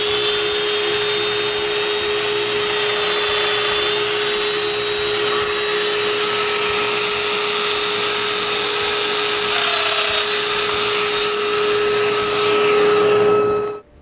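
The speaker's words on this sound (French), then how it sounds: "Ensuite, je perce des trous qui vont retenir les câbles au montant d'en avant." A drill boring holes in wood for a bedside table, with a steady, loud, high-pitched whine that runs continuously for about fourteen seconds before stopping abruptly.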